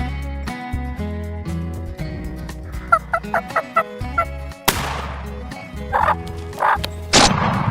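Turkeys on a North Carolina turkey farm gobble and cluck in loud, repeated calls over a steady, layered background.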